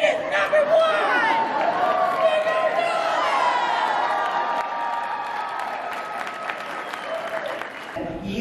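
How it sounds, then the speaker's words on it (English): A Sacramento State campus crowd screams and cheers in a farewell send-off, a loud sustained roar of shrieks, whoops and clapping that holds for several seconds before cutting off abruptly. "we'll end here with a scream, not a cheer"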